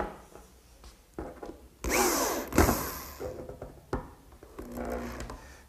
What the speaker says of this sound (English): And use a 1¼ inch drywall screw to hold it in place.